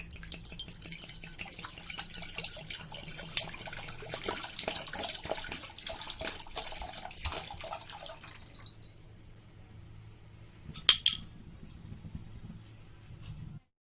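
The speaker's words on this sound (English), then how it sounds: "let's add some water" Water runs and splashes steadily into a container for several seconds, then stops, followed by a brief clink near the end.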